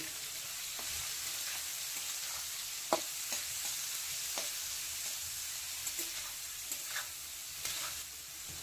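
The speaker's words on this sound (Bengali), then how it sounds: "পেঁয়াজটাকে একটু ভালো করে ভেজে নেব" Chopped onions frying in a pan give a continuous, even sizzling hiss, fairly soft, broken by occasional light clicks of stirring, with no one speaking.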